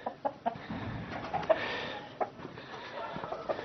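Hens clucking close by on a ranch on a winter morning, a few short sharp clucks and calls scattered over a low farmyard background.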